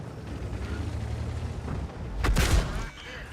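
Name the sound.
tank cannon shell fired, from the video game World of Tanks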